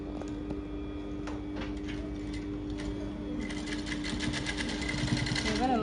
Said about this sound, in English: So now we're going to go stitch it